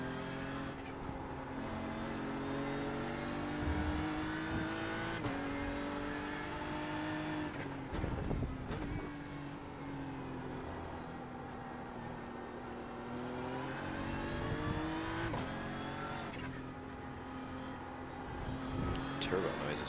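Loud, steady turbocharged race car engine at the Spa 24 Hours, whining and droning continuously from the cockpit with shifts in pitch as it accelerates down the straight.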